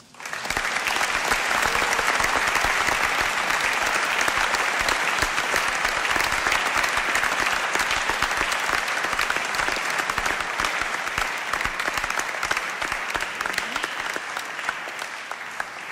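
Sustained, full applause from a concert audience at the Huygens Festival closing concert, dense, even clapping from many people that holds steady for the whole stretch and tapers slightly at the end.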